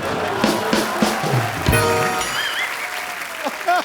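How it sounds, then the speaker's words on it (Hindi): Studio audience on The Kapil Sharma Show comedy program bursts into applause mixed with crowd noise and a voice, briefly loud before tapering off, with some talking over the clapping. "एक बार अनुष्का के लिए जोरदार तालियां"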